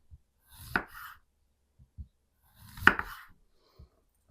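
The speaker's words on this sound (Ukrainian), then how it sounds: "Нарізаю по пів сантиметра кружальцями." Two distinct knife cuts through a zucchini into half-centimetre rounds on a board, each a crisp slice-and-thunk, with quiet taps in between.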